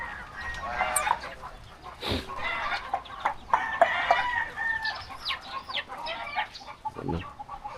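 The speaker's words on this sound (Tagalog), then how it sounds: "nagpapatukan na si Idol Kabungot ng kanyang mga alaga" Native roosters peck and fight each other, with close clucking, squawks and a brief crow in uneven bursts, and occasional faint voices in the background.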